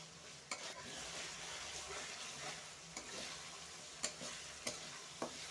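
Chicken curry fries in a pan with salt added, giving a soft, steady sizzle and occasional spoon taps and scrapes against the pan, fairly faint.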